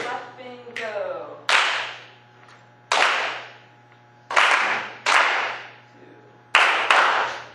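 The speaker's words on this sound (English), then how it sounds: "Let's have everybody clap that together." A string class claps together in a counted rhythm during a lesson, giving sharp, loud group claps in an uneven pattern with gaps between them, each clap ringing briefly in the room, and a voice speaking near the start.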